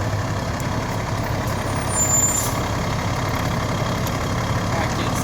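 A fire engine idles and pulls out of the station, a steady low diesel rumble with a brief hiss that sounds like an air brake midway, heard close and constant throughout.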